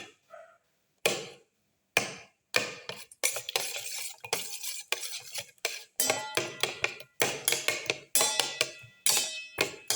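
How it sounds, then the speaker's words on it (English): Rapid clattering of a utensil scraping and knocking in a pan while tomato pieces are mashed and stirred, irregular bursts of close, bright clinks and scrapes with short pauses between. "Crush the tomato pieces by mixing."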